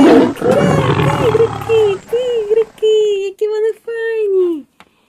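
Cartoon big cats, cheetahs, a leopard and lions, roar and growl loudly up close in a rapid series of drawn-out, wavering calls that grow shorter and trail off into silence.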